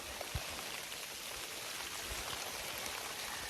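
Rain falls on a forest hiking trail along the Appalachian Trail near Clingmans Dome, heard from under a tree as a steady dense patter with occasional heavier drops close by, alone without voices.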